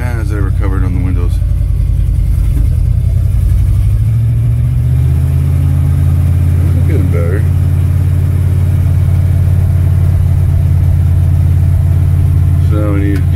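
Ford F100 pickup nicknamed Grumpy started cold with no choke, the engine cranking, catching and settling into a loud rough low idle that runs steadily throughout, with brief talk over it.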